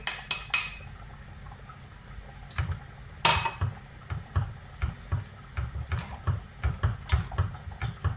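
A spoon scrapes and knocks against a pot of rice pudding with sugar in a steady rhythm of soft clinks, with a faint simmering bubble beneath.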